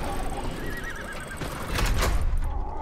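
A horse in the survival game ARK gives a loud, close neigh with a wavering whinny, followed by heavier hoof and movement sounds near the end. No voices are present.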